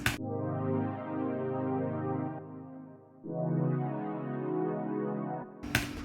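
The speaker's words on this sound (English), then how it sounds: "I also layered a classic brass pad on top of that. It's an ES2 preset." Layered synth pad from an ES2 preset, a classic pad stacked with a classic brass pad and treated with chorus and delay, holding two long sustained chords with a short dip between them, alone and fairly loud.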